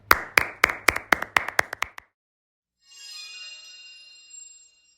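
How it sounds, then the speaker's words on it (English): About ten sharp claps from a small group in a brisk, slightly uneven run, then a pause and a higher bright cheering or whistling tone, an animal pair applauding and cheering at a game. "They clapped and cheered right till the end of the game."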